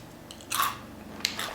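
Crunchy sweetened cereal, like Cap'n Crunch mixed with Cinnamon Toast Crunch, gets chewed in two crisp, close bites that are quiet and brief.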